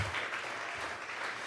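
A church congregation claps during a Sunday morning service, a dense continuous patter of many hands, moderately loud and even, with no voices on top.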